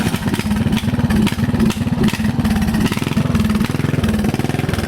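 A Craftsman lawn tractor engine runs loud and close, with a steady, throbbing mechanical drone.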